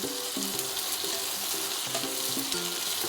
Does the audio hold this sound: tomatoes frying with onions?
yes